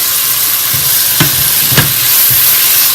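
Tomatoes fry in hot oil with onions for a Punjabi chicken pulao masala: loud, close, steady sizzling broken by a few sharp scrapes of stirring.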